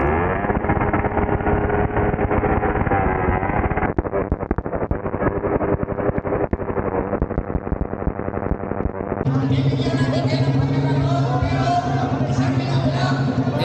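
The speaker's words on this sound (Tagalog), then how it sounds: "Lalo na dito sa mga makinang 4 valve, ang lalakas." Loud four-valve motorcycle engines rev and drone continuously, the pitch climbing and falling, with a shift to a higher, harsher roar partway through; wind buffets the microphone.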